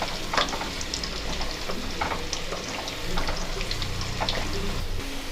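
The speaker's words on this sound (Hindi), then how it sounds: "उसके बाद मीडियम पे इसको फ्राई कर लेंगे।" Potato pieces frying in hot oil for a Hyderabadi vegetable pickle, a dense continuous sizzle and crackle with scattered pops, close and steady, no talk.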